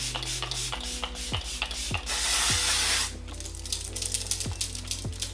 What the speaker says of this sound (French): Vous mettez d'abord un spray genre qui va fondre votre maquillage